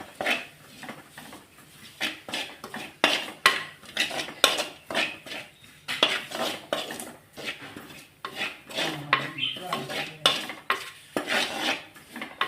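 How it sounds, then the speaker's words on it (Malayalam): Chili powder being stirred into a pan while making spicy Kerala fish curry, with a spoon repeatedly scraping and clinking against the pan in a steady, busy rhythm, close and fairly loud throughout. "ഇനി അടുത്തത് മുളക് പൊടി ഇട്ട് നന്നായിട്ടൊന്ന് മിക്സ് ചെയ്യുക."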